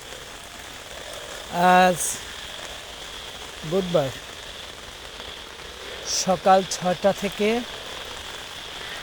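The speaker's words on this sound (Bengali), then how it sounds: "বৃষ্টি এবং ঝড়ো হাওয়া।" Steady, dense rain with stormy wind hisses continuously in the background while someone speaks in short bursts over it.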